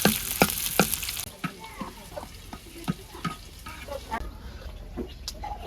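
Chopped onion and garlic frying in hot oil for tempering a sour dish, with clicks and scrapes of stirring over a steady sizzle in a village kitchen.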